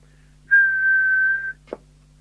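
A single steady tone whistled into a Satcom 40F CB radio microphone during a repair, holding for about a second, clear and close, followed by a short click.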